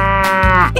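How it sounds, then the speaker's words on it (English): A cartoon cow gives one short, loud, close moo, a held tonal call that bends upward at the end, heard alone without talk. "Cow."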